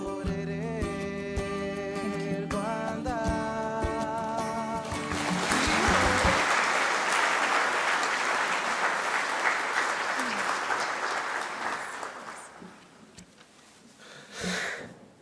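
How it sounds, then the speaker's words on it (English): Audience applause at a 2019 commemoration event for the 1994 Rwanda genocide, starting after a musical passage fades and swelling into a broad, steady clapping that holds for several seconds before tapering off, with a brief burst near the end. "Another round of applause for her, please."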